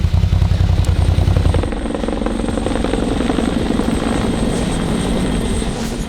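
A police helicopter thuds with a rapid rotor chop, loud and close, its pounding beat shifting slightly after the first couple of seconds and continuing steadily, no voices.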